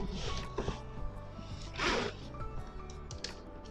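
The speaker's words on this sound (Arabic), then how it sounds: "هنفتح السوستة نقفلها هي معانا" A zipper on a handmade beaded backpack is pulled open and then shut, giving a few short, close, dry zipping rasps with one louder central pull in an otherwise quiet room.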